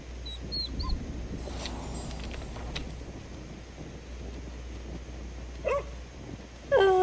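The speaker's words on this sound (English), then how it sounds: "Oh, the dog is so cute." A dog in the cooking game Overcooked! 2 gives a few short high yips and a whimper, heard faintly at first and louder near the end, over a soft background hum.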